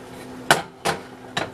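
A kitchen blender is set down on a counter, producing three sharp knocks in uneven succession, close and fairly loud with no talking.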